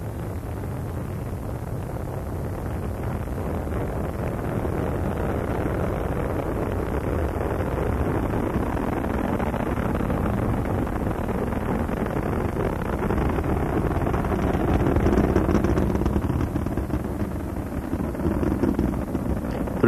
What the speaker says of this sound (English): Three engines on board Columbia now throttling back to two-thirds throttle as Columbia prepares to pass through the area of maximum air pressure.